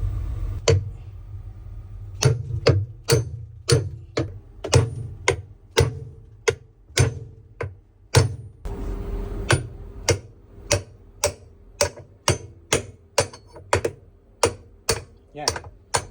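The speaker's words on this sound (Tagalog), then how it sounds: "pupukpukin mo ng martilyo kasi sobrang tigas yan" Steady, sharp metallic hammer blows strike a tool to remove a stuck Samsung washing machine drum, in a regular rhythm, about one or two per second, close up with a low background hum.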